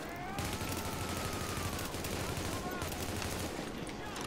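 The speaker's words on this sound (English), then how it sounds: "The yellow sniper that's in this watchtower right here. Just shooting y'all point blank." In The Division, sniper fire from a watchtower sounds as repeated sharp gunshots over a dense, noisy battle bed, with steady combat clatter and ringing tones throughout.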